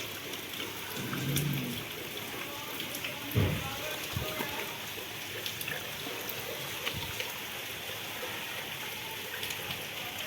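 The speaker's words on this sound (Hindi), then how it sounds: "बारिश अभी भी हो रही है" Steady rain hisses continuously in the background, with a few soft thuds and brief low bumps rising above the wash.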